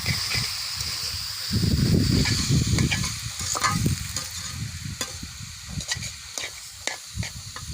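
Garlic greens and potato frying in a pan, with a loud sizzle and bursts of stirring and scraping throughout, plus occasional sharp clicks; nobody speaks.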